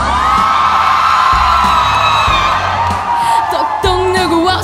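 School crowd at a live concert cheering and shouting under loud amplified music with sustained singing, the whoops and yells rising in waves throughout.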